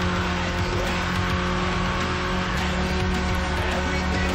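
A Mitsubishi Lancer in Need for Speed: Underground accelerates hard, its engine holding a loud, steady high-revving drone with tire noise underneath, continuous and close throughout.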